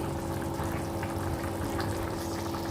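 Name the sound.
water poured into crab curry pot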